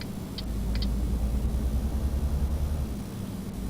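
A weak truck engine in a truck driving video game drones steadily at a low pitch, a constant mid-level rumble with no gear changes and no voices.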